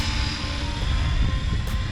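A Trex 500X RC helicopter flying circuits outdoors in wind, its rotor and motor giving a steady whining drone with a thin high tone, moderately loud and continuous.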